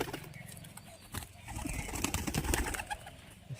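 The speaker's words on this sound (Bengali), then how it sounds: "এই কটাই পায়রা" Murshidabadi Abluk pigeons coo in a cage, soft throaty calls close by with rustling and shuffling wing and foot movement, fairly quiet overall.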